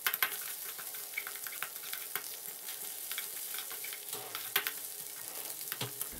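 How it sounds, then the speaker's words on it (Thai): Shrimp paste stir-fried in a hot pan, a steady crackling sizzle with scraping stirs and occasional sharper spatula clicks, fairly quiet and close, no voices. "แล้วก็ผัดกะปิของเราให้หอมเลยนะครับ"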